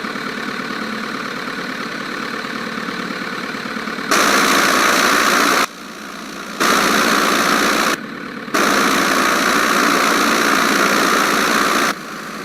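A Piper Cub's engine idles while taxiing in Flight Simulator X, a steady mid-pitched drone that jumps louder in several abrupt blocks and drops back between them, heard alone without talk.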